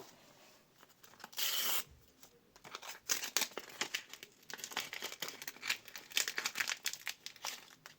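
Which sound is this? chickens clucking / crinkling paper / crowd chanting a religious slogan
crinkling paper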